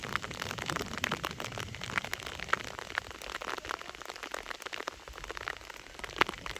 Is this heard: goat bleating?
no